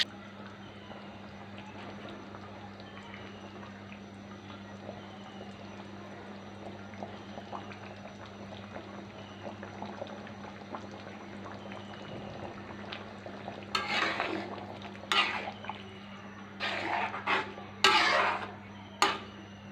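Bottle gourd curry cooks with fried hilsa fish bones in a pan, a low steady bubbling simmer under a constant hum, then louder splashes and stirring clatter near the end, with no voices.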